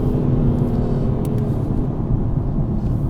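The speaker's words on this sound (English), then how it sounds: "So I'm just going to go down into about second now, so we're revving a little bit higher" A 520 bhp BMW M4 with a TDI Tuning box pulls in second gear at low road speed, giving a steady, close engine rumble with no talking.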